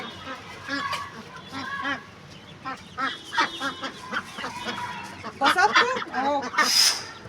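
Domestic ducks quacking in repeated short bursts close by, mixed with other fowl calls, while a person talks throughout.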